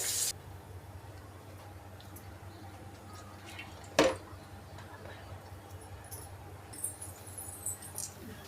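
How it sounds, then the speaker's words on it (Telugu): Country chicken is rinsed in a vessel: sparse water splashes, drips and light clinks against the pot, mostly soft, with one sharper knock partway through. "ముందు నాటుకోడి శుభ్రంగా కడుక్కోవాలి"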